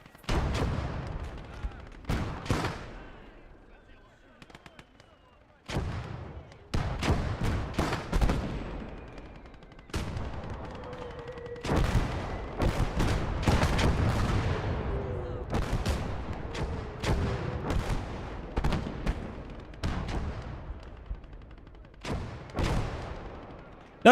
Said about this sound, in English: Nebelwerfer. Seems like they just kind of discovered my artillery.